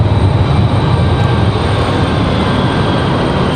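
A Frontier Airlines jet arriving from Atlanta at Raleigh-Durham airport passes as a steady, loud, broadband engine roar with no breaks, and no voices are heard.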